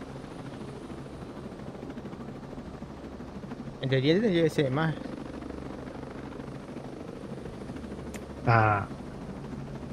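Helicopter in the video game Ghost Recon Breakpoint, a steady rotor drone running under the whole scene at moderate level, with a voice speaking briefly over it.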